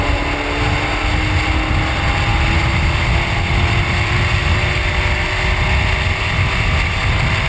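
Super Late Model race cars roar around Willow Springs International Raceway in a steady, loud engine drone, with rising pitch lines as the pack accelerates together.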